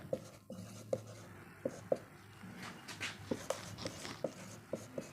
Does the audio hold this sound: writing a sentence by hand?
yes